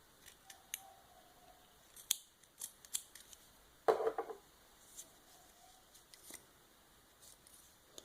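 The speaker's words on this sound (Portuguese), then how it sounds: "E agora eu vou cortar o fio." Scissors snip through yarn thread, a single crisp close cut standing out among a few small quiet clicks and handling taps, with no talk.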